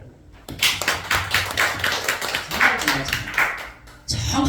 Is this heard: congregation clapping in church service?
yes